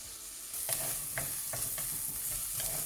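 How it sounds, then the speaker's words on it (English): Onions frying with curry leaves and ginger garlic paste for a spicy Sri Lankan chicken curry, with a steady close sizzle and rhythmic scrapes of stirring that begin after a brief moment. "I'm gonna fry this until I see the onions become translucent"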